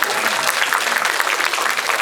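An audience at a film talk event for the movie Hunt applauds, a steady dense wash of clapping filling the whole moment with no breaks.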